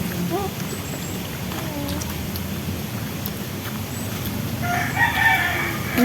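A rooster crows in the background, a clear bird call toward the end of the clip over steady outdoor ambience, with faint voices nearby.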